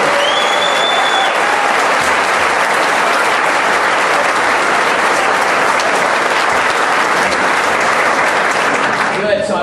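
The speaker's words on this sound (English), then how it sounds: "I want one more round of applause for my wife, Laura." Sustained, dense crowd applause at a political rally as the candidate asks for a round for his wife Laura, loud and steady from start to finish.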